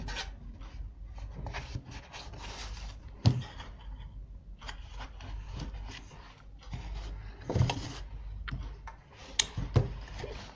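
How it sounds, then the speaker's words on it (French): Paper being pressed and rubbed with a bone folder while assembling a Stampin' Up! surprise box, giving soft scraping rubs in short strokes with a few sharper taps, close and quiet. "je viens appuyer avec mon plioir en os pour l'aider"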